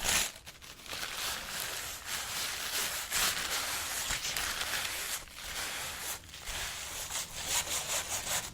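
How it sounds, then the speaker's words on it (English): Soft, continuous scrubbing of a paper towel blending paint on paper while painting a snowman, close and intimate, with rhythmic rubbing strokes and brief pauses. "I'm actually going to take my paper towel and blend it away a little bit"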